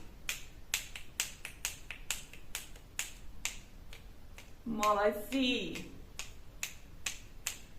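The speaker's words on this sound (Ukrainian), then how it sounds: "Ми будемо замість них клацати нашими пальчиками." A group in a summer music lesson snaps fingers in place of bells and maracas, making a steady run of sharp, crisp snaps with a brief spoken word of praise in the middle.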